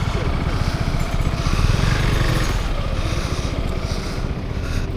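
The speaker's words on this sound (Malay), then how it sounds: "So kita susun motor dulu." Motorcycles being parked together on a group ride to the Leaning Tower of Teluk Intan, Malaysia. Engines idle and rev close by in a continuous, loud, throbbing rumble.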